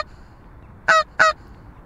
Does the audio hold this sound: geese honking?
yes